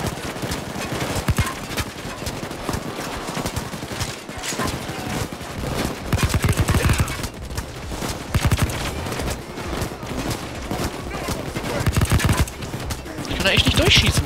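Gunfire in the video game Payday 2, a dense, continuous clatter of rapid shots mixed with game noise, loud throughout with a brighter burst near the end.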